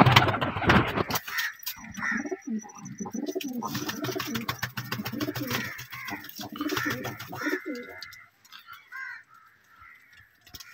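Pipla breed pigeons cooing in a loft, repeated throaty rolling coos close by, overlapping and uneven, with a voice speaking over them at times.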